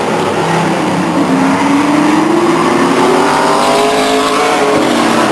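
Race cars roar around Stockton 99 Speedway, a loud, dense engine drone with rising and falling pitch as cars pass and accelerate, filling the whole stretch without pause.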